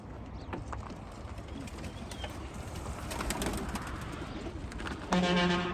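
Pigeons coo softly amid a busy outdoor bed of noise, with scattered clicks and a louder tonal burst near the end.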